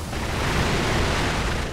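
A dense, rumbling burst of crackling firecracker explosions in the video game Sekiro fills the space, loud and continuous with no voices.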